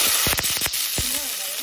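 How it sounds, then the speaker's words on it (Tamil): Shallots and curry leaves frying in hot oil in a pan, with a steady close sizzle and a few sharp crackles and pops near the start, no voices. "இந்த வெங்காயம் நல்லா எண்ணெயிலையும் வதங்கட்டும்"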